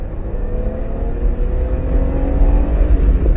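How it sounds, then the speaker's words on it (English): Six-cylinder car engine droning steadily and loudly from inside the moving car, with a slowly rising pitch as it pulls, alone without talk. "Il sound del 6 cilindri"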